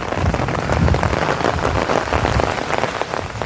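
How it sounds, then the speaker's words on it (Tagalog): Heavy rain pours steadily onto a mountainside, a dense continuous hiss of drops close by with no voices. "Lumakas ang ulan, umambon ng kay lakas-laka tapos biglang huminto na naman"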